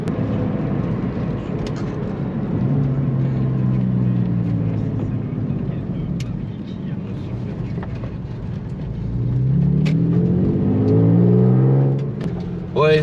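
A Porsche driving on snowy roads during a road rally, engine droning steadily close by, with the pitch rising under acceleration near the end; a voice speaks over the engine noise.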